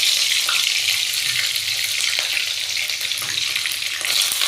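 Capsicum sizzles in oil in a pan while a cauliflower and potato curry is cooked. The frying hiss is steady and close, with faint clinks, and there is no talk.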